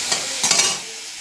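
Spices and tomato frying in a hot wok: a loud, steady sizzle with two bursts of crackling spatter, the second stronger, easing off toward the end without any talk.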